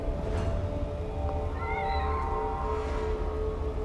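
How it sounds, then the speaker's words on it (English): A cat meows once or twice at a save point in the TEW video game, a thin rising-and-falling cry over a constant low musical background with no talk. "But we'll take advantage of this oddly placed save cat."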